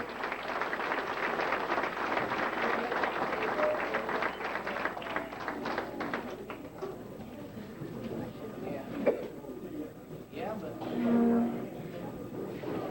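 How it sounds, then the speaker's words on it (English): Applause at an awards ceremony for a youth program, a burst of clapping that fades after a few seconds into room noise, scattered thumps and murmured talk. "Let's give a big round of applause."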